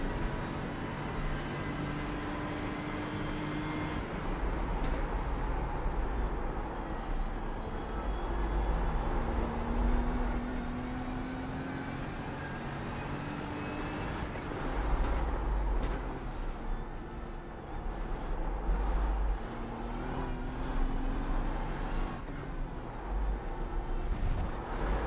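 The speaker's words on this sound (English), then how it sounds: "You can hear the car really sliding around, trying to gain grip." BMW M4 GT3 racing around Sebring in iRacing, its engine droning steadily through long gliding pitch sweeps as the car slides and scrabbles for grip, a continuous loud onboard roar with a few heavier surges.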